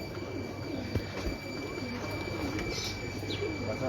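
Antique breeder pigeons coo softly and repeatedly in a loft, low throaty calls overlapping at close range against a steady background hum, with a faint higher chirp now and then.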